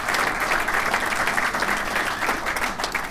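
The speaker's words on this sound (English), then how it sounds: "He deserves a round of applause for" An audience at a Torrance Area Chamber of Commerce State of the State event breaks into sustained applause, a dense, even wash of many hands clapping for several seconds.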